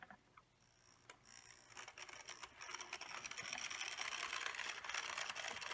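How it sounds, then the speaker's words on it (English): A TOMIX N scale ED61 model locomotive pushing a track cleaner car with its cleaning pad, a thin whirring motor hum with fine rattling clicks over the rails that grows steadily louder as the train approaches. "track cleaner switched on so it should run"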